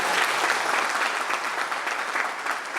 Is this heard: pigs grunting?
no